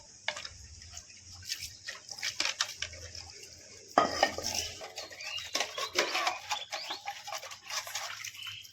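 Metal dishes and utensils clatter and clink as they are rinsed in water inside a large vessel in a village setting, a busy run of close, irregular knocks and scrapes that grows denser in the second half.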